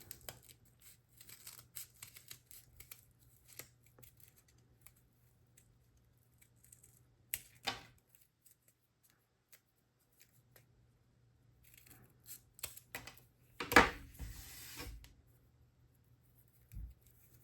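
Scissors snip through folded white paper while a snowflake is cut out, sparse quiet clicks and rustles spread over a long stretch with a louder burst of cutting near the end and no talk.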